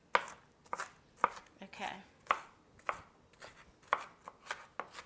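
Knife chopping onions on a board for a raw vegan Thanksgiving loaf, about ten crisp, close chops in an uneven rhythm, with a brief spoken word near the end.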